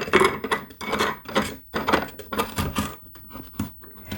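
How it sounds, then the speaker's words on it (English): An air purifier's plastic cover is fitted back on and its knob screwed down, giving a string of clicks, clacks and rattling handling noises in irregular bursts, close by, with no talk. "Put the cover back on and screw this knob."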